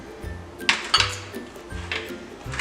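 Ceramic dessert dishes clink onto a cooking tray in a few separate light knocks and chinks, close by, with a soft low thump under some placements.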